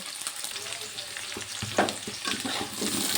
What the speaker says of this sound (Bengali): আলু আর পেঁয়াজ লাল করে ভেজে নেব